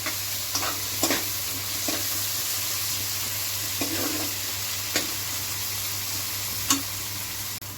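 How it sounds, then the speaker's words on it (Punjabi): Tomatoes hit a pan of browned onions for a pumpkin and vadiyan curry, giving a steady close sizzle broken by a few sharp stirring scrapes, with a constant low hum underneath and no voices. "ਪਿਆਜ਼ ਆਪਣੇ ਥੋੜੇ ਜਿਹਾ ਬ੍ਰਾਊਨ ਹੋ ਗਿਆ ਹੁਣ ਇਹ ਚ ਟਮਾਟਰ ਪਾ ਲਾਂਗੇ"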